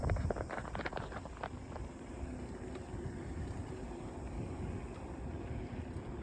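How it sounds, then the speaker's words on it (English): Wind gusting across the beach camping area at Goose Island State Park on the Texas coast, a continuous roaring rush buffeting the microphone, loudest at the start, with no talking. "I'm going to try to block the wind here"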